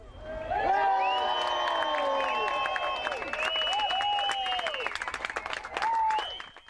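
Hundreds of people crowd along a harbour's edge to welcome rowers arriving in Barbados, cheering, whooping and applauding in a loud, lively wash, with high shouts and whistles rising over sustained clapping.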